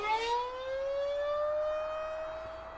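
A civil defense tornado siren sounds during a test in Newton, holding one steady, slowly rising wail that carries clearly from a distance with no voices.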